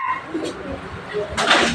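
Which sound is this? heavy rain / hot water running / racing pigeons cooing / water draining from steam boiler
racing pigeons cooing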